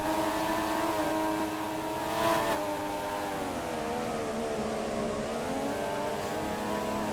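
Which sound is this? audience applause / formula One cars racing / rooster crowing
formula One cars racing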